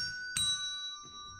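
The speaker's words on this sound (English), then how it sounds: "Desk bells." Desk bells ring out the doorbell ding-dong melody, two bright, glassy dings about half a second apart, the first louder and both leaving a thin shimmering ring, heard close with no voices.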